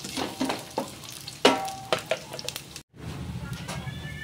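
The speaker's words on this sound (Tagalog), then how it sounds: "Halo lang po hanggang sa maluto po yung sibuyas" Onions sizzle in a pan while being stirred, with scattered close scrapes and clinks over a constant frying hiss and one brief drop to silence near the end.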